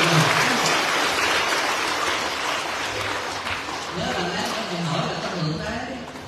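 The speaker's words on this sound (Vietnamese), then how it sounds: "cho mình một tràng pháo tay nhiệt liệt rồi" An audience at a Buddhist dharma talk breaks into warm applause, a loud wash of clapping that fades gradually, with someone speaking over the tail end.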